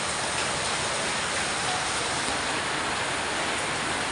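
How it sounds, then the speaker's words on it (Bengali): Heavy rain pours outside in a dense, unbroken roar, loud and close, with no voices over it. "বাইরে প্রচণ্ড বৃষ্টি হচ্ছে"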